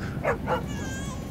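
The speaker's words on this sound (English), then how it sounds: "He suddenly heard a loud cry and a bark." A dog gives two short, sharp barks or yips close by, followed by a faint high whine, heard alone with no talking.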